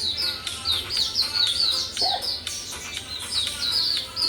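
A bird chirps shrilly and repeatedly in quick high-pitched bursts, fairly close, over a low background hum.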